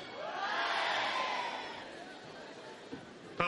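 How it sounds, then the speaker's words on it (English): A crowd at a 2008 Paris tennis match between Hewitt and Mahut swells into a broad roar of cheering and shouting, then slowly subsides into a murmur, with a couple of sharp knocks near the end. "Crowd slowly building in here."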